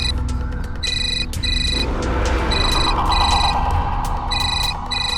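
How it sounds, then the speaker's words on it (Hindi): A mobile phone rings with an incoming call, repeated bursts of a bright electronic ringtone pattern over a busy dramatic music bed, fairly loud and without talk. "रणविजय का फोन आ रहा है, शायद वो हमारे पीछे ही खड़ा है।"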